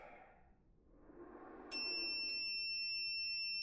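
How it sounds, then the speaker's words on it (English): An off-grid solar inverter gives a loud, continuous high-pitched electronic beep that starts suddenly after a soft shuffling noise and then holds steady to the end. "The inverter beep, is it telling me that the panels that were already on it are too low voltage to work with these batteries?"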